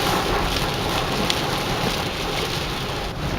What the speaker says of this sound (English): rain is starting to come down now.